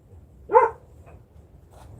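A single dog bark rings out close and clear against a quiet background, followed by a faint, short sound a moment later.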